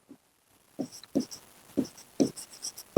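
Chalk or marker writes on a board during a coordinate geometry lesson, a series of short taps and scratchy strokes in irregular bursts, close by with brief pauses between marks.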